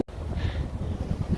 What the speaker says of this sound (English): the wind is still acting up